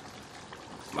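Water pours into a restaurant-style chicken balti of drumsticks, peppers and onions in a pan, a brief, soft splashing wash that swells louder at the end.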